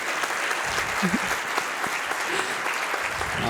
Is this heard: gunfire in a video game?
no